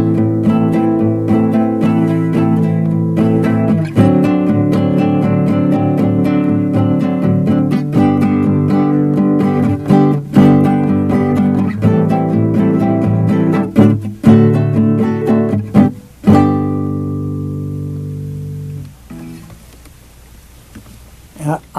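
Acoustic jazz guitar strumming chords in a syncopated 3-3-2 then 2-3-3 pattern, loud and close, with repeated accented strums over about sixteen seconds before a final chord rings out and fades.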